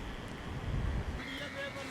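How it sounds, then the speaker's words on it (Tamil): Strong wind gusting along a stormy seashore in Jaffna, a steady broadband roar with buffeting microphone noise, rising and falling throughout, loud and close. "காற்று வந்து ரொம்ப மோசம் அடிக்குது"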